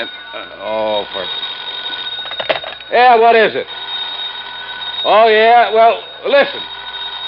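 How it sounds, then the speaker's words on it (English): In an old-time radio crime drama, a telephone bell rings on and on in the background while someone talks over it. "pick that other phone off the hook"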